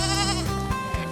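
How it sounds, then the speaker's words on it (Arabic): A goat gives one close, loud, wavering bleat lasting about a second, alone with no talking. "هذا ماعز."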